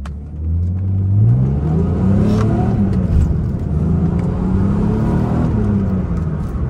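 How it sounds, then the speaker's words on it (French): A BMW Z3 inline six-cylinder engine revs up and holds a loud, steady mid-pitched roar with rising and falling tone, heard close and alone. "Sonorité de voiture de course. Hein. Ça vient bien de l'arrière, la sonorité."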